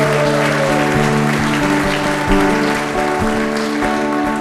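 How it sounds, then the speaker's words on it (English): A crowd claps and cheers at a Veterans Day event, dense, sustained applause under a steady musical tone, loud and close. "Give yourselves a round of applause."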